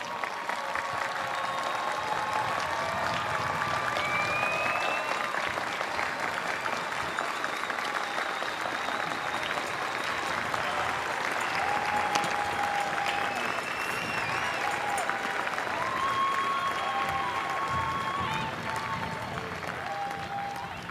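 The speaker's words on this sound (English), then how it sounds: "Graduates, let's stand, turn, and applaud those who have supported you to get to this day." Graduates at a graduate school commencement ceremony applaud their supporters, producing sustained dense clapping from a large crowd that holds steady for around twenty seconds, with faint scattered voices and cheers beneath it.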